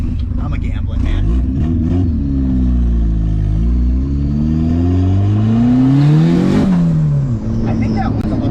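A Miata's engine revs loudly and continuously under test, its pitch climbing and falling in long sweeps before peaking sharply near the end, with people talking over it.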